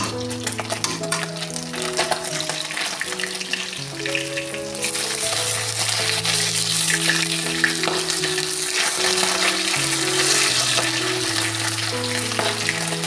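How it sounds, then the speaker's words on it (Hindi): Fish fries in hot oil for a curry, a constant close crackling sizzle that continues under background music. "इधर मच्छी फ्राई होके रेडी हो रहा है"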